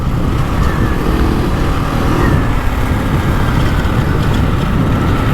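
A GasGas ES 700 motorcycle engine pulls hard at speed with a quick-shift upshift, a loud continuous close engine roar mixed with heavy wind rush, steady throughout.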